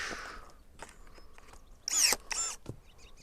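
Koham 10.8-volt cordless pruning shears cut through a roughly half-inch Oregon white oak branch, giving a brief close whirring motor strain that bogs down as the blade bites, then a short snap, with faint background noise.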